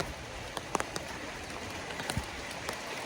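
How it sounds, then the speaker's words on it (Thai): Rain falls at a house under construction, a steady hiss of drops with a few sharper taps of water on a nearby surface scattered through it, and no talking. "เพราะว่าฝนตกแล้ว"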